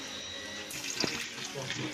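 Dirty, silty water running from a new pipe fed by an electric pump in a well, a steady gushing splash with some gurgling, fairly quiet and continuous.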